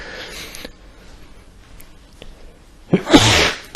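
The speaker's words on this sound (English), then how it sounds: "Now I'm going to sneeze now" A loud, close sneeze bursts out near the end after a quiet stretch with faint background noise.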